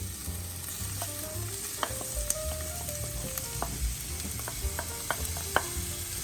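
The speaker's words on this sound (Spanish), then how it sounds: "Nuestro aceite se ha calentado, vamos a agregar nuestra cebolla" Chopped onion sizzles in hot oil in a pan over medium heat on a stove for Colombian chickpeas with tripe, a steady crackling hiss with occasional sharp pops and utensil clicks, close and moderately loud, no voices.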